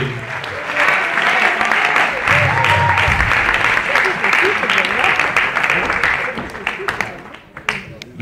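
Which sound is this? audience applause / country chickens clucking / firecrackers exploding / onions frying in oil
audience applause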